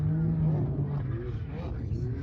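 Old Can-Am Maverick R side-by-side working through a rhythm section on an off-road race track, its engine droning steadily at moderate distance, with the tone rising and falling as it takes the bumps, under a voice talking.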